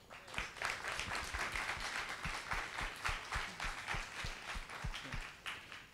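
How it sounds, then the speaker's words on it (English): Applause at a tech summit closing, a modest scattering of claps with distinct individual hand strikes over a lighter crowd patter, somewhat distant and soft. "I would just give a round of applause to Mark, but to everyone who showed real dedication here"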